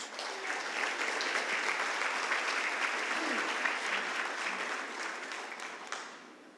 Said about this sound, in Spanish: ¿Le damos un aplauso a Jesús, hermanos?